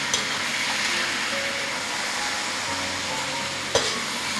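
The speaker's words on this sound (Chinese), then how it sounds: "你晓不晓得那个白菜要把它炒脆些？" Cabbage stir-fried in a wok at a home kitchen, with a continuous sizzle and a spatula scraping and stirring close up. One sharp clank of the spatula against the wok lands near the end.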